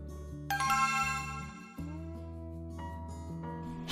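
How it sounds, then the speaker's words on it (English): A doorbell chimes in a few bright, ringing tones that overlap and decay, fairly faint and heard alone with no voices. "I've been ringing the doorbell for like 20 minutes already"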